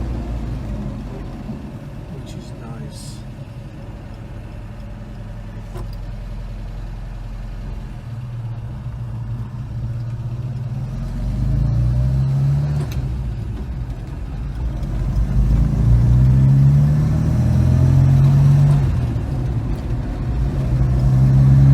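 A 1967 Volvo 122S Amazon Wagon cruises in overdrive, its engine droning low and steady at reduced revs, then swelling louder with rising pitch as it pulls harder toward the end, with road noise throughout.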